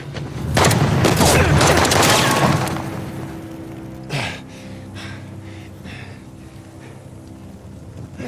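Gunfire in the Uncharted: The Lost Legacy video game, a loud dense burst of shots and impacts lasting about two seconds, then a single sharp report and quieter rumbling debris after it.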